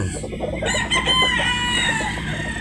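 A Sweater Boston bloodline gamefowl rooster crows once at close range, a loud drawn-out call that follows a few short clucks.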